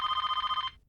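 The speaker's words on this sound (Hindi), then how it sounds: "इधर फोन की घंटी बज रही है।" A single electronic telephone ring, bright and steady with a fast warbling pulse, lasting under a second before cutting off into quiet.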